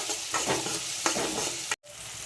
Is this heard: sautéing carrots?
yes